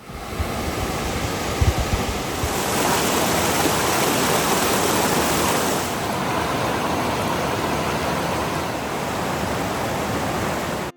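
A waterfall in Great Smoky Mountains National Park near Gatlinburg pours steadily, a dense broadband roar of rushing water that stays loud and close throughout with no voices.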